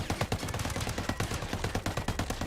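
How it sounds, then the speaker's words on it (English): Rapid gunfire from raid training with a Mark 17 rifle, shots cracking in quick bursts and irregular volleys, loud and close, continuous through the moment without any speech. "Oh, shooting over your head."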